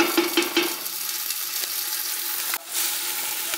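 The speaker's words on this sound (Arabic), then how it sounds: "et je commence à remuer un petit peu، نحرك شويه. فوالا نخليهم يتقلاو شويه مزيان" Vegetables frying in a pan while being stirred, a steady close sizzle with a few soft scraping strokes and a brief dip when the pan is moved.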